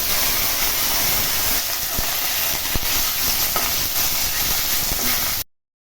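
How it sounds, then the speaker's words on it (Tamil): Thuthuvalai greens sauté in oil in a pan, producing a loud, continuous broadband hiss and sizzle with a few faint stirring clicks, then the sound cuts off abruptly near the end. "அடுத்து நாம் எடுத்து வச்சுருக்க இந்த தூதுவளை கீரையும் வ வதக்கிடுவோம்"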